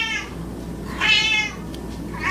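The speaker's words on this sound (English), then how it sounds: "Do you hear my cat, how loud she is?" A pet cat meows loudly and close by in a few drawn-out calls, the clearest one in the middle, over a quiet indoor room with no talking.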